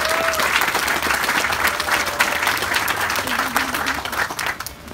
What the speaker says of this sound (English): So round of applause for those 2 donors.